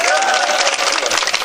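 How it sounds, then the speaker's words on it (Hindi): An audience at a mushaira claps loudly for the poets on the dais, a dense, continuous burst of applause, close and full, lasting only a moment. "एक मर्तबा जोरदार तालियां डाइस के लिए"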